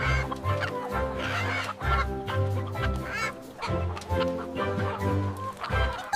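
Farm chickens at feeding time keep up a steady chorus of nearby clucks in repeated bursts, with some honk-like calls mixed in and no speech.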